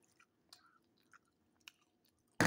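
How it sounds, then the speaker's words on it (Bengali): Someone chews small dried chili peppers soaked in oil: soft, sparse crunches and mouth sounds close up in a quiet room, ending in a sudden loud burst of noise. "এই মরিচটা অনেক মজার মরিচ, ছোট ছোট মরিচ, শুকনা, তেলে ভেজা নিছি, খাইতে অনেক ভালো লাগে।"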